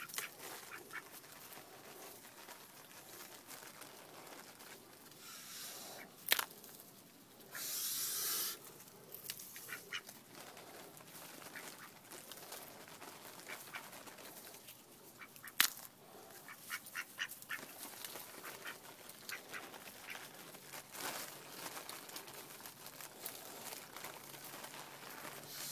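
Ducks quack in a steady, continuous chorus at a family dinner gathering, with occasional louder calls rising above the busy flock noise throughout.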